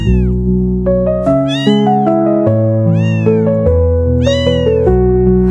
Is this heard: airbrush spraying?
no